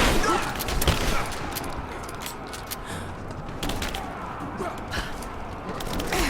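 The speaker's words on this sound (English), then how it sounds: "Taking fire!" Gunfire rattles through a battle in Rise of the Tomb Raider, with repeated sharp shots and bursts over a dense, continuous combat din, mid-distance and fairly loud.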